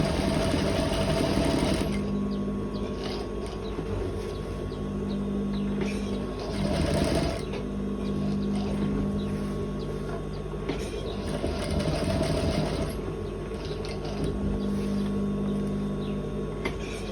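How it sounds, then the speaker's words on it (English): A sewing machine stitching an elastic waistband runs in steady mechanical bursts, whirring continuously for several seconds at a time with brief pauses between runs, close and clear. "So I'm going to run a stitch."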